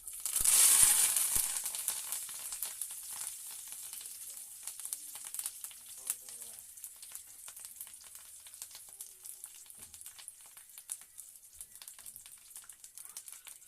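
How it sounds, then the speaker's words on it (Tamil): Mustard seeds and curry leaves splutter and crackle in hot oil, a loud dense sizzle at the start easing into steady popping and frying that continues to the end, with no talking. "பாருங்கள், கடுகு நல்லா பொரிஞ்சிட்டு இருக்கு."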